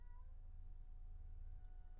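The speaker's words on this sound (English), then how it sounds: "apologies if you can hear a moaning cat in the background," A young kitten meows indoors in a thin, drawn-out wail near the start, faint and set back behind a low steady hum, with no talking.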